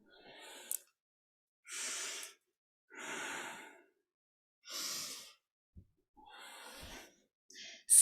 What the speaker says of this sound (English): deep inhale and exhale